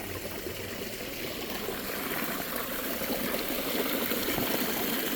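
A small stream flows with a continuous babbling trickle that swells slightly, close and soft, with no voices.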